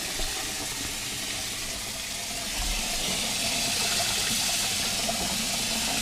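A pan being washed under a running kitchen tap, a continuous close hiss of flowing water splashing into the sink that grows slightly louder midway, with no voices.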